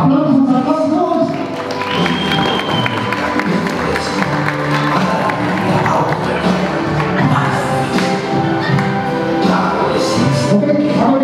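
Guests at a quinceañera party applaud under loud music, a steady wash of clapping and crowd noise lasting several seconds with some voices mixed in.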